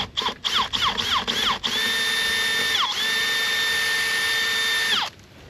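A power drill bores a hole for a homemade chicken waterer: several short whirring bursts, then one long steady whine that spins down near the end, loud and close with no talking.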